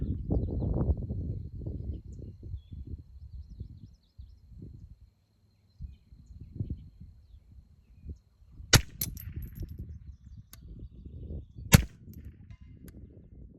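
Two sharp cracks from a Remington Speedmaster 552 rifle fired outdoors at a target about 140 yards away, sounding a few seconds apart. Someone talks between and around the shots, and wind noise runs underneath.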